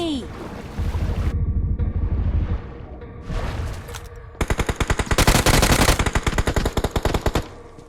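Rapid automatic gunfire bursts from BGMI PUBG Mobile play loud and close, with a dense rattling run of shots in the second half after quieter wind and ambient noise with a few scattered shots.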